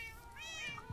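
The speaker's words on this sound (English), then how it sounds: "Oh my god, I got cats." Cats in a Minecraft Lucky Blocks game give a short, clear meow that rises and falls within about a second, close and fairly faint over a low hum.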